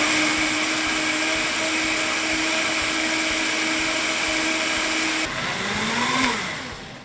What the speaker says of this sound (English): I'm going to process these oats for about 20 to 30 seconds because I'm using a high-speed blender